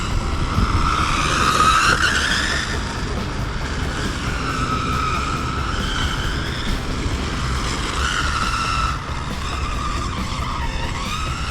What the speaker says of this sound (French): on va faire quelques tours de piste pour que les pneus se fassent un petit peu